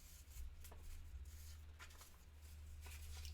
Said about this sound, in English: The least exciting part of this is watching me shuffle these cards up into a mixed up order